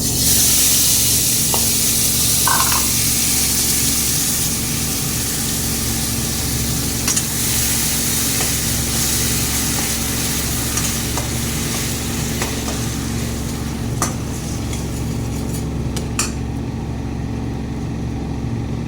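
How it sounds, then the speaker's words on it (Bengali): Pieces of boal fish frying in hot oil give off a continuous, close, loud sizzle with bursts of spitting crackle and occasional sharp pops over a steady background hum. "দেখেছো বন্ধু বান্ধবীরা কত কষ্ট এটা ভাজতে, একদম তেলের সাথে যুদ্ধ করছে।"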